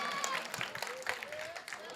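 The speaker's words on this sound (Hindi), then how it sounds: "एक बार जोरों तालियां बजा" Applause from a crowd at a Hindi-Urdu mushaira poetry gathering in Govandi, Mumbai, a dense, steady wash of clapping that fills the whole stretch, with a voice calling out over it.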